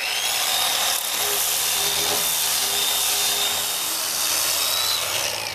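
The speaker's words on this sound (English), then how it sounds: "this is the Porter Cable variable speed sander polisher" A Porter Cable variable speed sander polisher fitted with adhesive sandpaper runs on wood, giving a loud, continuous motor whir with a steady rubbing drone throughout.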